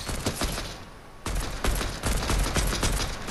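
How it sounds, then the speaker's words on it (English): Rapid bursts of gunfire from a Fortnite match fire close and loud in quick volleys, with a brief pause before more shots follow. "I'm shooting him"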